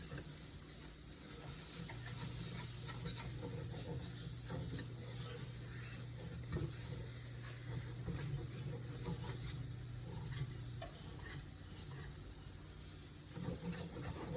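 Flour being whisked in a pot on the stove for a beef stew pot pie, giving a steady scraping, sizzling stir that runs continuously at a moderate level.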